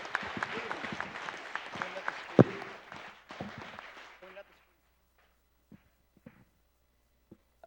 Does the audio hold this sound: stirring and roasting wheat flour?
no